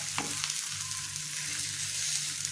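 Small potato-stuffed parathas fry in oil on a pan, a close, steady crackling sizzle with a brief scrape of stirring or flipping near the start.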